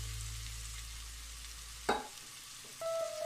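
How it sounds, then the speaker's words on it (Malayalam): Marinated chicken frying in a pressure cooker for biryani: a steady close sizzle that cuts off abruptly, followed by a sharp clatter, a short quiet gap, then a brief tonal hum. "ചിക്കൻ ഏകദേശം ഫ്രൈ ആയി."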